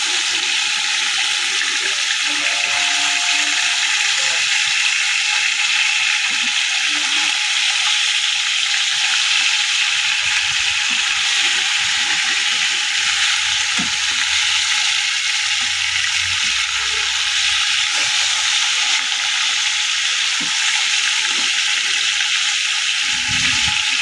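Pieces of deshi rui fish fry in a pan of hot oil as they are turned over, producing a loud, unbroken sizzle that holds steady throughout with no talking.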